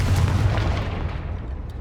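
A Confringo blasting spell explodes in Hogwarts Legacy. A loud, heavy boom with rumbling, crackling noise starts at once and fades slowly over nearly two seconds.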